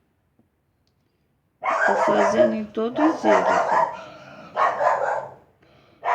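A pet female dog barks in loud, close bursts and yips indoors during a drawing session, a short run of barks followed by another burst, with someone speaking between them.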